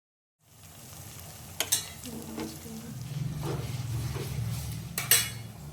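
Ginger paste being stirred into frying onions in a pan, a close steady sizzle building after a brief silence, with a few sharp spoon clinks against the pot and scraping stirs, no talking.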